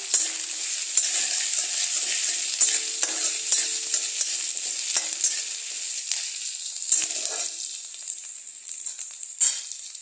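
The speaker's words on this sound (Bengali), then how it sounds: "এটা দিয়েই আমি এখানে দিয়ে দেবো টুকরো করে রাখা পেঁয়াজগুলো।" Chopped onions fry in a pan over medium heat for a chicken stew, giving a close, steady sizzle broken by occasional stirring scrapes, with no talking.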